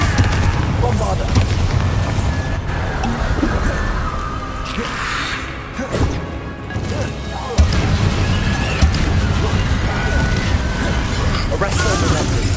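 Bombarda blasting spells in Hogwarts Legacy burst with loud booming crashes amid heavy game combat noise, repeated impacts under an excited voice shouting spell names throughout.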